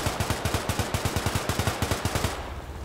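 Rapid automatic gunfire in the military video game Arma 3 rattles in a steady burst of about twenty sharp, loud shots, then cuts off abruptly into quiet.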